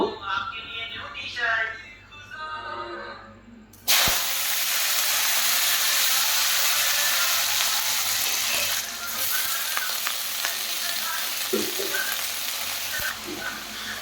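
Potatoes dropped into hot, smoking oil in a pan, bursting into a sudden loud, steady sizzle that continues for about ten seconds, with clattering stirring and someone talking faintly before they go in.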